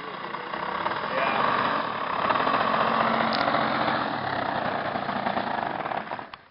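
A car engine drones steadily while driving on a road trip in Montana, a continuous muffled interior rumble with road noise and a voice talking over it, fading at the end.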